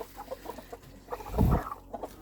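Broody hens cluck softly in short, scattered calls, with one louder burst of fowl noise in the middle, close by.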